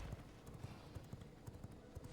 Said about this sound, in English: Let's try to stay away from the horse here.